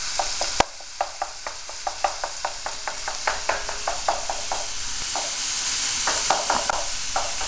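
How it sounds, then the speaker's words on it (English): Ground meat with chopped onion and jalapeno sizzles in a hot pan, a continuous hiss broken by a steady run of sharp taps and scrapes as it is stirred, close and clear with no talking. "What you'll get is a nice sizzle."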